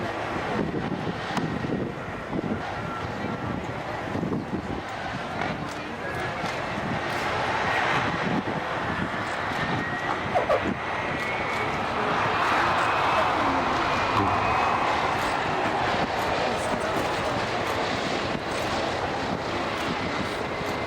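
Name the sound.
propeller aircraft doing a wheeler landing at an air display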